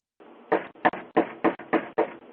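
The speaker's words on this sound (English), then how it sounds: "there was just this banging, this knocking at the door" Someone knocks on a door with six firm, fairly evenly spaced raps, each sharp and close, over faint room background.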